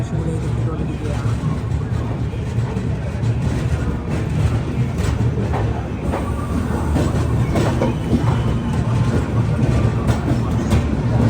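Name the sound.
Vivek Express train arriving at Vijayawada Junction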